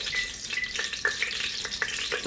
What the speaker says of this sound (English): So now, while the meat is boiling, you can push the fire low